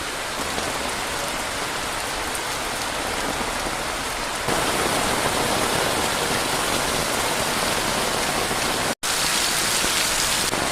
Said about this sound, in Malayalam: നല്ല ശക്തമായ മഴയാണ് ഇപ്പോൾ പെയ്തുകൊണ്ടിരിക്കുന്നത്